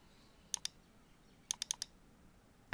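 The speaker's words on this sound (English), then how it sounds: "double click on it" A computer mouse clicks in quick pairs, with a faint crisp double-click and then a rapid run of four clicks against a quiet background.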